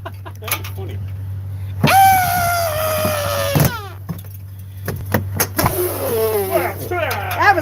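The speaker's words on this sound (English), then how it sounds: "And now a scream from our sponsor" A sound-effect scream bursts out midway, a long loud sustained shriek lasting nearly two seconds, then breaks off, amid a steady hum and other clattering noises, with a later wavering wail-like cry.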